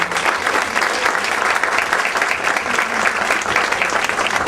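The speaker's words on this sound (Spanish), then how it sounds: "Un aplauso para él, por favor." Audience applause for a speaker at a social innovation talk, a loud, busy patter of many hands clapping steadily throughout, close and continuous with no voices over it.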